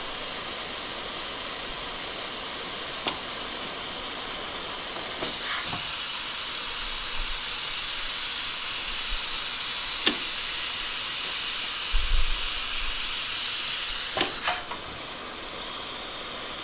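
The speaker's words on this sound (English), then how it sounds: "we're going to just seam seal that piece of Gore-Tex that we joined together using the ultrasonic machine" A hot-air seam sealer runs steadily as it tapes a seam on Gore-Tex fabric, giving a continuous airy hiss throughout with a few brief clicks and taps along the way.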